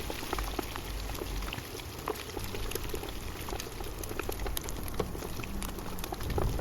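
Pork belly frying in hot oil for a southern Thai home-cooked dish, a steady dense sizzle and crackle with scattered sharp pops throughout, moderately loud and continuous with no voices.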